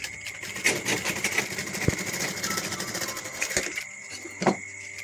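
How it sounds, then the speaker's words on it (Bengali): An electric sewing machine stitches a girl's skirt, running in a steady rapid whirring chatter close by, with a couple of sharp knocks before it slows and stops near the end. "এইখানটা একটু সেলাই করে দিতে হবে, কালারটা ভেতরে ঢুকে যাবে।"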